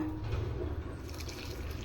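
Hot water is poured into wheat flour for wheat kali: a soft, steady liquid trickle with faint dripping, close and quiet, under a low background hum.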